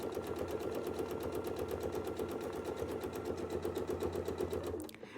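A sewing machine free-motion quilting a curl runs at a fast steady chatter of needle strokes, close and constant, then slows and stops near the end.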